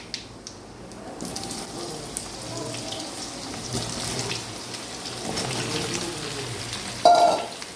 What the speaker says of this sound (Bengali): আমগুলো দিয়ে ফ্রাই করছি।